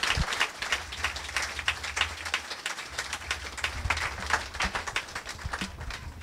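Congregation clapping in rhythm during a French-language church service, a steady dense patter of many hands close by, with low murmuring beneath and no clear speech.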